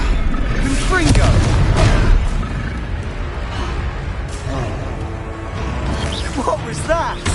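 Confringo blast spell explosions in a wizard video game, deep booming blasts and rumbling impacts layered with game effects and shouted character voices throughout, loud and dense.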